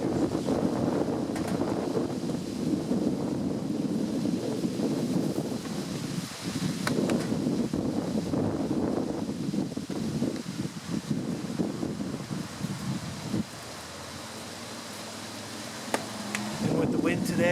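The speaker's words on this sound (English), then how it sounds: "With the wind today, it's not cooperating very much, so everything's blowing away." Gusty wind buffets the microphone at an outdoor backyard grill cooking shrimp, a loud rumbling roar with rustling that drops away briefly near the end before returning.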